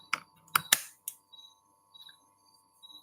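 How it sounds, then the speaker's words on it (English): A few quick keyboard key presses in a short burst, followed by softer, scattered taps in a quiet room. "I'm typing it in like this."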